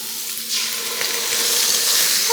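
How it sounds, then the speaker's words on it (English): Chicken pieces sizzle in hot oil in an Imarku enameled cast iron braiser, a steady broadband hiss that swells slightly after being laid in the pan, with no talking. "Something about that sizzle"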